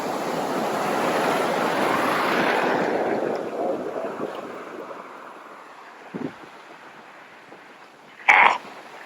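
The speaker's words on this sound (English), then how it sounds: "Windy." Strong wind gusts across a beach strewn with piles of tide-washed seashells, a loud roaring rush buffeting the microphone over surf, easing after a few seconds and ending with a couple of short knocks.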